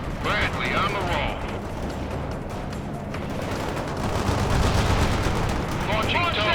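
Dense video-game combat in World in Conflict: continuous loud gunfire, rapid machine-gun bursts and explosions filling the whole stretch, with radio-style voices talking over the battle.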